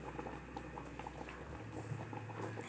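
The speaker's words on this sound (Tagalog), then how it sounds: "Ayun, nakumulo na siya." Kare-kare stew boiling in a pot, a steady low bubbling and popping that runs faintly through the whole stretch without any talk.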